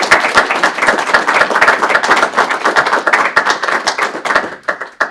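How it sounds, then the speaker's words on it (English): An audience at a talk on the Maha Mantra with Bhakti Prabhava Swami gives a loud, sustained round of clapping, individual claps distinct and rapid, continuing unbroken throughout. "So let's give another big round of applause to Bhakti"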